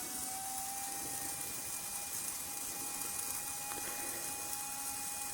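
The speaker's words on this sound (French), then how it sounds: "Marche avant du moteur." Small DC motor running forward, switched by a Bluetooth-controlled polarity-reversing relay board, giving a faint steady whine with a constant tone and a low mechanical hum in the background.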